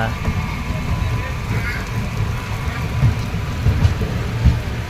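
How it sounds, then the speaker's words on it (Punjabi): Steady heavy rain hiss with low rumbling booms, one or two thunder-like thuds near the end, and voices faintly present, heard from inside a moving electric train passing through forest. "ਬਰਸਾਤ ਬਹੁਤ ਹੋ ਰਹੀ ਹੈ ਆ ਵੇਖੋ ਕਿੰਨਾ ਮੀ ਪੈਣ ਡਿਆ"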